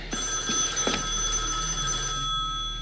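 An old telephone bell rings in a quiet room, a single rattling burst of ringing that fades away near the end.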